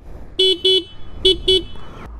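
Four loud, short horn toots in two pairs from a 2021 TVS NTorq 125 scooter, bright and buzzy, sounding close by.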